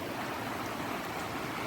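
A fast-flowing monsoon stream near a rural Marathi village gives a continuous, fairly faint rushing hiss of water with no voices.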